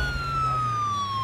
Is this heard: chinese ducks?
no